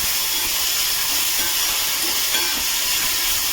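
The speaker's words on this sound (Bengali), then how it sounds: "সবজিগুলো এবার ভেজে নেব ভালো করে।" Vegetables frying in a pan for an oats recipe give off a steady, close sizzling hiss that holds at an even level throughout, with no voices.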